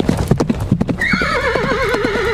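A horse's hooves clip-clop in quick galloping beats, then a loud, close, wavering neigh rings out over the continuing hoofbeats.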